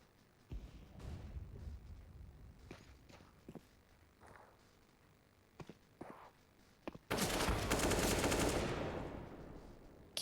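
Gunfire in a Counter-Strike: Global Offensive pro match rings out as scattered sharp shots, then a long dense roar of sustained fire or blast fills the last few seconds, all at moderate distance with no voices.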